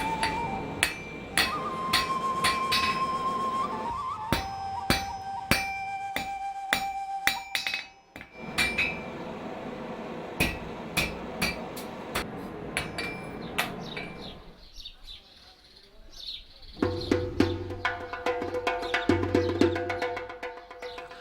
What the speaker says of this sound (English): The blacksmith does not put down his hammer until the iron is subdued and taken the desired form.